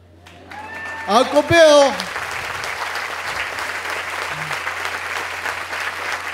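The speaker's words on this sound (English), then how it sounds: "there's a little cheering section out here that just loves you" Audience applause and cheering at a gift announcement ceremony honoring a longtime trustee, rising loudly after a brief spoken name and continuing as a steady, dense clapping wash that fills the rest of the clip.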